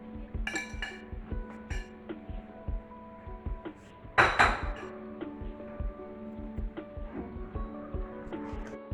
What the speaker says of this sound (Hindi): इसको कंटिन्यू हमें ऐसे मिक्स करते रहना है।